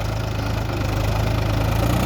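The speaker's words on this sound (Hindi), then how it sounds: "महिंद्रा ट्रैक्टर" A Mahindra 265 tractor engine idles close by with a steady low diesel chug and a rhythmic knock, running alone without speech.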